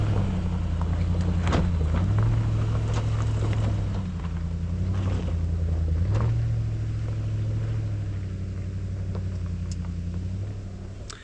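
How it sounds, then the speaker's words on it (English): A 2025 Nissan Patrol Warrior's engine drones steadily while climbing a steep hill, its low hum shifting in pitch now and then, with faint knocks and rattles over the top. There is no talking. "the Patrol Warrior has no problem getting up this hill climb at all"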